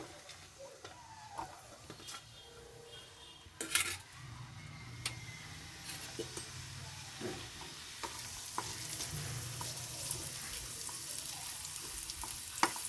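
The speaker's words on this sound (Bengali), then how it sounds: "এই পেঁয়াজগুলো দিয়ে দেবো ভাজার জন্য" Chopped onions sizzle steadily in oil in a pan with occasional stirring scrapes and clinks, the frying growing a little louder and denser toward the end.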